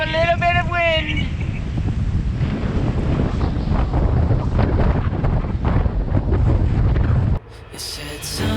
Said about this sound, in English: I think we have a little bit of wind.